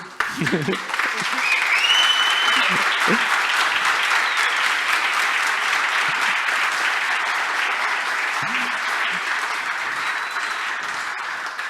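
A lecture audience applauds after a talk about running PHP 7.4 with FFI, with dense sustained clapping, a few voices in the crowd, and the applause fading slightly toward the end.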